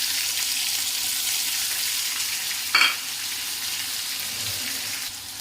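Tomato joins onions and chicken liver frying in a pan, a steady close sizzle with a brief louder burst of crackle midway, then settling back to an even hiss.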